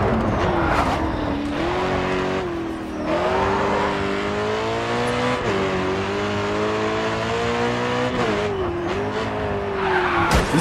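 A race car in the Grid 2 video game skids through a hard turn, its engine droning loudly and steadily throughout, the pitch rising and falling with tire squeal over more than ten seconds, with no voices.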